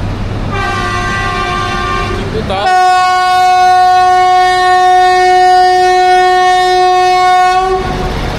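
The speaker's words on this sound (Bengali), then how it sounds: "এই যে পিছনে আমাদের ট্রেন," A train at Panagarh station sounds a loud, close horn in one long steady blast of about five seconds over a rumbling engine, with a brief voice speaking just before it.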